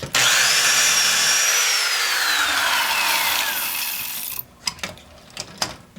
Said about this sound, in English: Drill your second hole